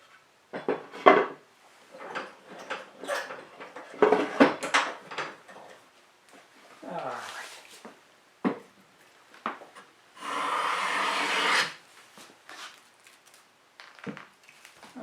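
Wood River No. 5 1/2 bench plane shaving poplar: a series of close, scraping swipes of varying length, with a longer steady rasping stroke near the end, amid handling knocks and no talk.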